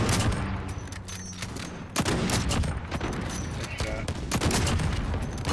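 Dense gunfire in the Call of Duty Warzone video game, a continuous barrage of overlapping shots and cracks with sharp sniper-like reports standing out, loud throughout.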